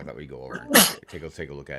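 A single sharp sneeze bursts out in the middle of a person's speech, with talking before and after.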